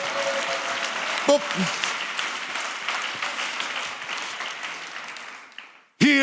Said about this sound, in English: Give them a round of applause for being brave.